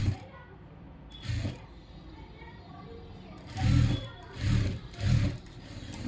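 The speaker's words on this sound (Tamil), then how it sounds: "அந்த பக்கத்துலேயே வந்து தையல் வந்து போட்டு எடுத்துக்கோங்க" Sewing machine stitching fabric piping: short bursts of rapid mechanical stitching at close range, a brief run early and then three quick runs, separated by quiet pauses with soft handling noise.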